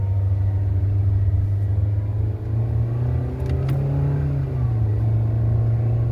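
Inside a petrol Toyota Innova Zenix G on the move, a steady low engine rumble rises in pitch, then drops as the gear changes, with no one speaking.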